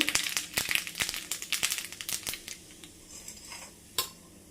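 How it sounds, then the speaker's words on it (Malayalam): Mustard seeds spattering in a tablespoon of hot coconut oil in a pan, with rapid sharp crackling pops that thin out toward the end over a faint sizzle. "ചൂടായി വന്നിട്ടുണ്ട് അപ്പോൾ അതിലേക്ക് കടുകിട്ട് കൊടുത്തു"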